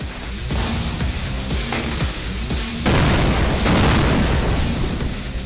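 A Leopard 2SG main battle tank fires BM-78 rounds during a Singapore Army live firing competition, heavy booming blasts heard as a run of loud, rolling reports with rumbling echoes.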